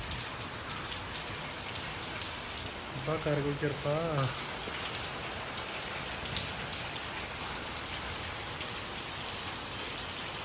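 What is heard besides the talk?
rain falling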